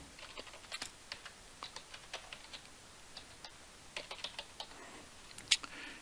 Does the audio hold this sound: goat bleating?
no